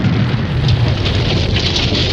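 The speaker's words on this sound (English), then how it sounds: "The massive explosions were really fun." Film special-effect explosion, a loud, dense roaring rumble that holds steady for about two seconds with no clear onset or fade.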